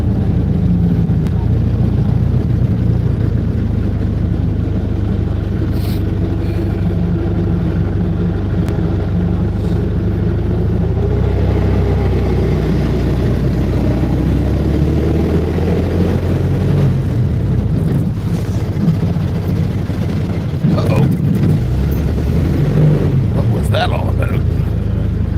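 A Flivver car engine climbs a steep hill in high gear, a steady low drone with road and wind noise throughout and a few passing vehicles swelling near the end.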